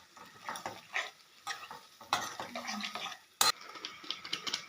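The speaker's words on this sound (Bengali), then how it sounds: "সেই পটলগুলো দিয়ে দিলাম পোস্তের মধ্যে, দিয়ে আবার ভালো করে নেড়ে নিতে হবে" Fried pointed gourd is stirred into poppy seed paste in a pan, with soft scraping and clinking of a spatula in uneven strokes, a faint sizzle underneath and one sharp knock partway through, close and fairly quiet.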